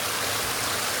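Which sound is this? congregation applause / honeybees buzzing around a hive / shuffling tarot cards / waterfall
waterfall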